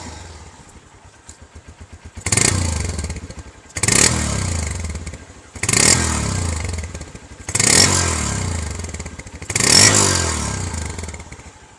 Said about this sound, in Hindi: Now let's come to the CB150F और इसकी आवाज़ ज़रा सुन के देखते हैं।